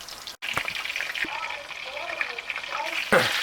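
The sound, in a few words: meatballs frying in a pan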